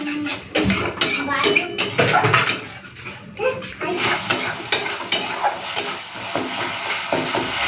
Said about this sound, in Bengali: মশলাটা খুব ভালো মতো কষা হয়ে গেছে